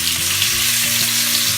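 Salmon fillets coated in rice flour sizzle steadily in a hot pan, a dense continuous crackle and hiss with no pauses, close and fairly loud with no talk.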